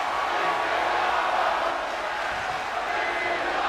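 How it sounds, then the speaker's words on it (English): Arena crowd in the WWE 2K23 wrestling video game, a steady loud roar of massed voices chanting throughout, dense and continuous with no pauses. "You hear that crowd chanted, "This is awesome," for damn good reason."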